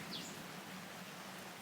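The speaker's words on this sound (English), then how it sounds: "Sorry about all the rain." Steady rain falls outdoors during a mower repair, making a soft, even hiss that fills the whole moment at low volume, with no voices.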